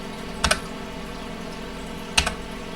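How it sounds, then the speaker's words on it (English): Two brief clusters of computer keyboard keystrokes, each a quick pair of taps, sound close and moderately loud over a steady low room hum, with a long pause between them. "The keys, they're not reacting as well when I hit the keyboard, when I tap the keys."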